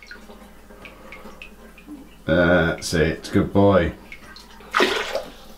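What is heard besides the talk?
water running from a tap while brushing teeth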